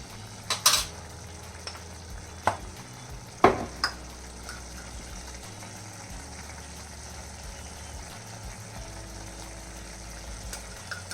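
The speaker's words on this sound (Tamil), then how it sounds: "அதுக்கப்புறம் மிளகாத்தூள் இதையும் சேர்த்துட்டு நல்லா வதக்கி விட்டுக்கிறேன்" Cut potato with chili powder is sautéed in a pan: a few sharp utensil clinks and scrapes early on, then a faint, steady sizzle over a low background hum.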